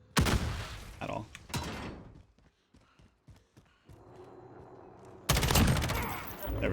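Gunfire in Call of Duty Warzone: loud bursts of rapid automatic shots at the start, scattered single shots and clicks in between, then another heavy burst near the end, close and sharp, with a quiet stretch in the middle.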